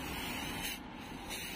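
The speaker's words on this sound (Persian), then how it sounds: "خب اسپری تکون میدیم و شروع میکنیم" A spray paint can hisses steadily close by as paint is sprayed onto a rear bumper flap of a Peugeot 206, a continuous hiss with a short dip midway.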